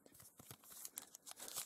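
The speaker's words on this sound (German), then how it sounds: "Schauen wir mal rein in unsere neuen jetzt Papiertüten." Paper bags holding Lego Ninjago trading cards being torn open, a quick series of close crinkling and ripping bursts growing denser toward the end.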